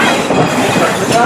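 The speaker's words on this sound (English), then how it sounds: "Locomotive." A Strasburg Railroad steam locomotive pulls a line of passenger cars, making a steady, loud, close rolling rumble with a faint clatter of wheels on track.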